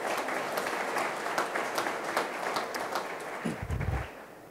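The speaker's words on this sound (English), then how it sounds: "That's worth applause." A city audience at a State of the City address breaks into applause, a dense, even patter of clapping from a large crowd in a hall, holding steady before fading out with a low thump near the end.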